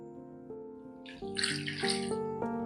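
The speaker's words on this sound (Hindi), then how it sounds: "चिकन को फ्राई करने के बाद इसमें डालेंगे 2 कप पानी" Water pours from a vessel into a pan of fried chicken for chicken nihari, a brief splashing gush rising over a sustained musical background and settling after a couple of seconds.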